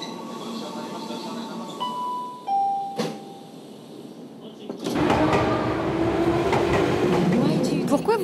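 Tokyo metro train with a women-only car: a descending chime melody and a brief beep, then loud rumbling train noise with clatter as it moves, and speech heard amid it.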